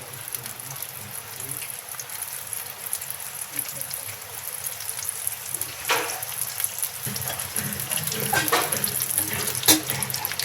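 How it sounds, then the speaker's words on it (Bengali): Bitter gourd stuffed with hilsa fish filling fries gently in hot oil in a pan. It gives a continuous, close, crackling sizzle that grows slightly busier toward the end, with a few sharper pops. "তেলটা গরম হয়ে গেছে, পুর ভরা করলাটা আমি দিয়ে দিয়েছি।"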